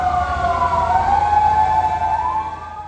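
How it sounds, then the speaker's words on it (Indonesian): A fire engine's wailing siren on a street in Samarinda, rising and falling steadily and loud throughout, with a low vehicle rumble beneath. "Mobil pemadam kebakaran bergerak cepat menuju Jalan Dahlia"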